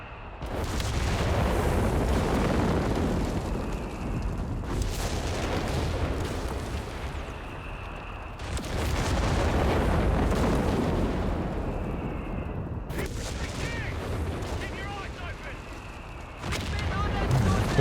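Artillery barrage from BL 5.5 and Bishop guns in Company of Heroes 3, heard as sustained rumbling booms and distant blasts rolling in long waves, with brief lulls and a voice talking over parts of it.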